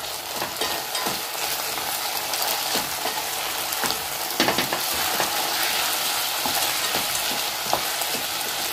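Sabudana khichdi with black pepper is being stirred in a hot pan, with a continuous sizzle and repeated scraping of the spoon against the pan.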